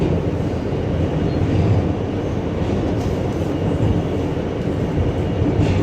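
An NYC subway R260 train runs with a loud, steady rumble and rail roar, heard from on board with no talk.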